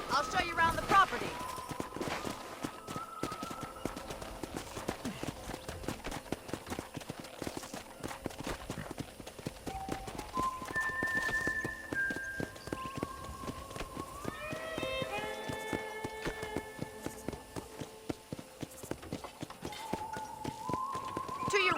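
Horse hooves clip-clop steadily in the Red Dead Redemption video game, a continuous rhythmic trot on a ranch property, with a voice and in-game speech over it.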